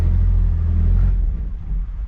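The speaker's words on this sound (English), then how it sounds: "Let me see if I can start it and keep my foot on the gas." A junk salvage-yard car's engine cranks with the foot held on the gas, a loud low rumbling drone that holds steady and then sags and sputters as it begins to die out.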